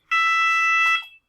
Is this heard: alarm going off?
yes